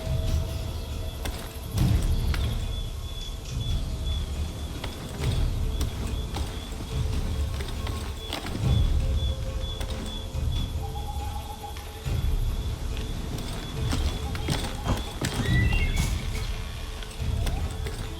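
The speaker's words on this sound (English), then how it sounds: "Get back on the horse, Connor." Horse hooves clip-clopping in Assassin's Creed III, a steady rhythmic trot heard at moderate level over game ambience and music, with no talk.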